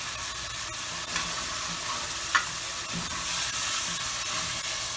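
Spices sizzling and frying in a pan for brown rice with chicken, a steady continuous hiss with faint stirring clicks, close and moderately loud with no voices.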